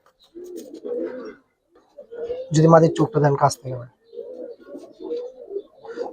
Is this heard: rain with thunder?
no